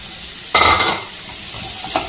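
Mango pieces for pickle drop into a hot tempering of mustard seeds and asafoetida, setting off a sharp burst of sizzling and stirring that settles into a steady frying hiss, with a brief scrape near the end.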